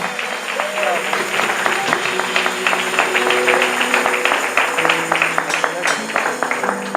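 A church congregation claps for the Lord during a Spanish-language sermon, with rhythmic, fairly close hand claps repeating steadily over organ or keyboard tones and a faint murmur of voices.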